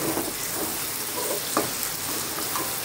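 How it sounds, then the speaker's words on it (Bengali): Meat sizzles steadily as it fries in hot oil in a pan, a dense continuous crackle with small pops, close and fairly loud throughout. "আগে মাংসটা লাল করে ভেজে নেবো তো তারপরে।"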